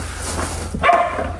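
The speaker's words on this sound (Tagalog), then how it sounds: "Kaingay-ingay man Dexter ng ating aso." A pet dog gives a single short, loud bark near the middle, standing alone against steady indoor background noise.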